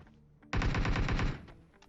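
A sudden burst of rapid automatic gunfire rings out in PUBG Mobile as an enemy gets knocked, loud and dense for under a second before fading.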